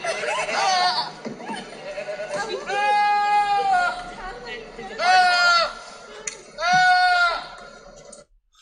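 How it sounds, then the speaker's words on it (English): Small goats bleat in loud, wavering cries, three long calls spaced a couple of seconds apart, with people talking and chuckling between them. "These cute little goats."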